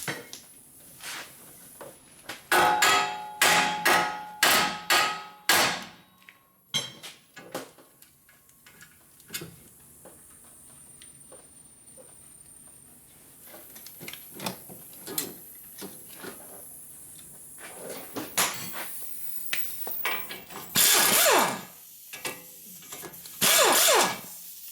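Metal-on-metal hammer strikes while removing a tie rod on a Ford Focus during wheel bearing work: sharp, loud clanging blows in quick bursts separated by pauses, some ringing, with scattered smaller tool clinks.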